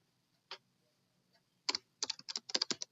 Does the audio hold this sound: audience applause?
no